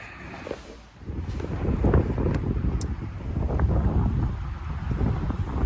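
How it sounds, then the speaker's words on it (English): Steady wind buffeting the microphone outdoors, a low rumbling roar that swells after the first second and stays loud throughout, with no talking. "it's a little windy out"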